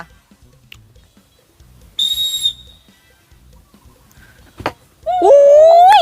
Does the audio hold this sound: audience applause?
no